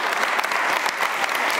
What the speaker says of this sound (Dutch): Geef haar een applaus.